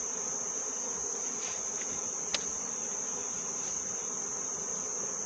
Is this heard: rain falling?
no